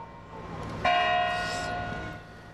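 A single church bell stroke in Guimarães, Portugal, rings out clear and resonant, then decays slowly into a long, fading hum.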